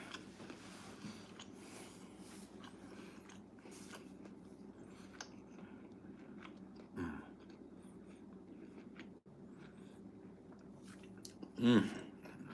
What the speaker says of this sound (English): I gotta finish chewing.